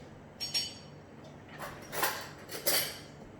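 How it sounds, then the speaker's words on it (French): A metal spoon scrapes and clinks against a dish while spreading a vegan hachis parmentier topping of mashed potato with olive oil, giving a few separate light scrapes and taps up close. "Je vais prendre une autre cuillère pour étaler mieux."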